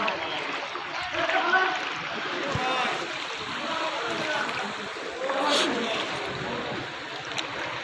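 Kushiyara river floodwater pours into a submerged bus stand, a steady broad rushing and trickling wash with faint splashes, running continuously at moderate level.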